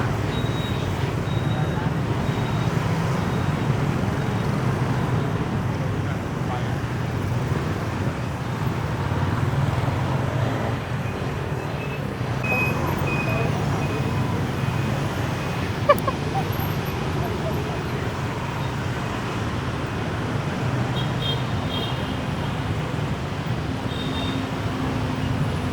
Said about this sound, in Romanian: Hai că ăștia merg cu motorul și pe trotuar, n-au treabă.